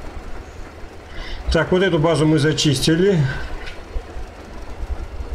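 A three-wagon train in Metro: Exodus keeps up a low, rumbling roll in the background while someone talks over it.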